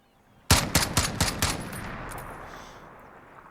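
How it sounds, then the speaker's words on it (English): An MK 14 EBR rifle in the Call of Duty Modern Warfare video game fires a rapid burst of about six sharp shots in quick succession, followed by a fading reverberant tail. "we're just going to let it rip a couple shots and see what the recoil looks like without controlling it"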